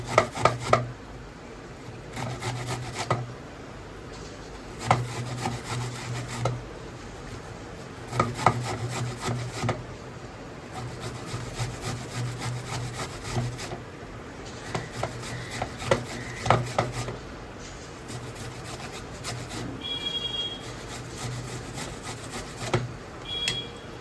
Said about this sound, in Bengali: আপেলটা সঙ্গে সঙ্গে ঘষে দিতে হবে, কেন নয়তো কালো কালো হয়ে যায়।